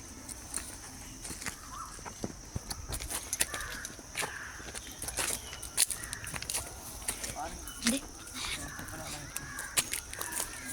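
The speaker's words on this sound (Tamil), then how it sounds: "அந்த குருவியெல்லாம் இருக்குது" In a forest, birds give crow-like caws and other scattered calls at varying distances, mixed with footsteps and light rustling, while people talk now and then.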